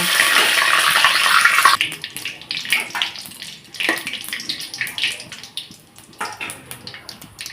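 Whole cumin, bay leaf, cinnamon, cardamom and cloves frying in hot oil: a loud initial hiss and sizzle that settles into a softer, crackling fry, continuing steadily throughout.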